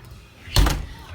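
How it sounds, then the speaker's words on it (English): A house's front door shuts with a single solid thump in a new-build home, a brief close impact set against a quiet room. "behind you close the door"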